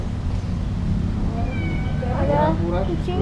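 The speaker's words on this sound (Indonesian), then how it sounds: "ada kucing, anak kucing" A kitten meows a few times, a thin, rising cry partway through, heard over steady background noise at the Hyatt Regency hotel grounds in Yogyakarta.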